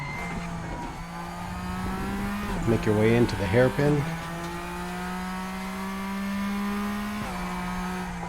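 Race car engine in the RaceRoom racing game, a steady drone with a brief burst of rising, revving harmonics as the car works through a hairpin, under close narration throughout.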